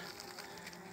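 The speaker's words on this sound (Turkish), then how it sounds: "Bombuslar kenardan bal çalıyorlar." Bumblebees buzz around a beehive while stealing honey at its edge, a continuous close droning hum without pause and with no voices.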